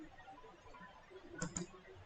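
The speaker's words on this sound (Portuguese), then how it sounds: "E vou pegar aqui o B do teclado" A quiet pair of quick clicks comes from pressing the B key on a computer keyboard, close and soft against a faint background hum.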